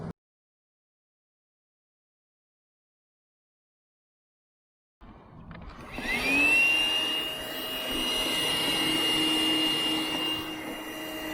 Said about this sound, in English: I should get a vacuum cleaner up here and try and vacuum some of that calcium out of there.